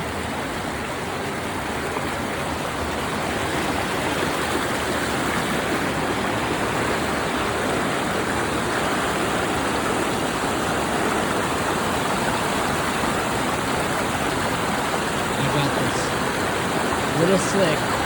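A hidden waterfall in Big Sur pours in a steady, loud, close rush of water that holds unbroken and even from start to finish.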